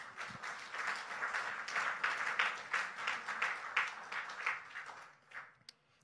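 A church congregation applauding together at a French-language service, a steady dense wash of clapping hands lasting several seconds at moderate distance before tapering off, with faint voices mixed in.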